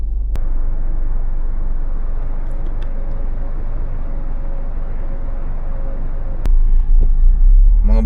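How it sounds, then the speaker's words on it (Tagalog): Vehicles pass on a freeway, a steady broadband traffic rumble heard from nearby that thickens briefly near the end. "Ayan yung freeway. Yan. Yan, kita yung mga sasakyan na dumaraan."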